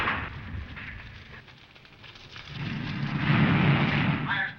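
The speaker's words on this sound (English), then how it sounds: "Fire in the hold?" A radio-drama fire effect for a blaze in a ship's hold: a continuous crackling, rumbling roar that swells in a deep surge toward the end.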